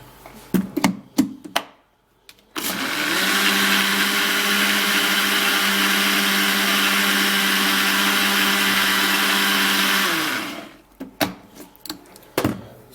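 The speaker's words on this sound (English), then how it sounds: "now I would have to be turning in the avocado in there, and then I'll blend it" A kitchen blender whirs steadily for about eight seconds while blending avocado for a juice, a loud, even motor hum that starts abruptly and winds down, framed by brief clatters and handling knocks.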